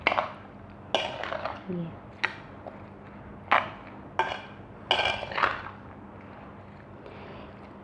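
Fruit chaat stirred in a bowl with a spoon, giving a series of sharp clinks and scrapes spaced a second or so apart over a quiet background, with a voice speaking briefly.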